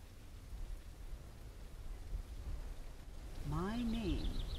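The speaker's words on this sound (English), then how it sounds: "But it's raining!" Rain and rumbling thunder from the video game Camping Builder, set on a tropical island, form a steady soft wash of noise, with a short melodic game tone rising over it near the end.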